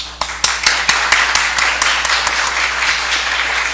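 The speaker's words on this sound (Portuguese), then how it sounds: "os aplausos hoje não são para mim, mas são para vocês ali, alunos queridos" Applause for students at a municipal legislative session: sharp individual claps stand out near the start, then a sustained, even round of clapping from a roomful of people continues throughout.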